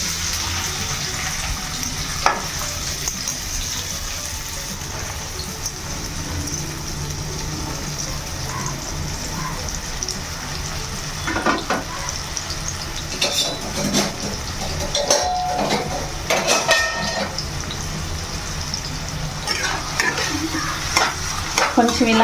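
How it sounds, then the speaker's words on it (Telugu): Onions frying in hot oil in a kadai for a Telangana-style mutton curry, a constant bubbling sizzle with intermittent spatula stirring and scraping that grows busier toward the end. "ఫస్ట్ ఉల్లిపాయలు వేసుకుంటానండి."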